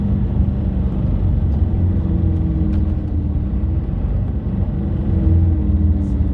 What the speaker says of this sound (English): Not even sure if you can hear me with the noise of the bus